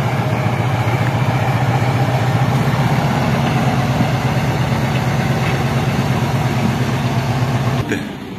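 A car engine idles steadily at close range with a low, even throbbing pulse, then cuts off abruptly near the end, leaving a quieter tail.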